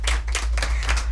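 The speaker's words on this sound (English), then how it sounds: "a round of applause to my amazing audience." An audience at Karibu Inn on Waiyaki Way claps continuously, a dense patter of many hands close by over a low steady hum.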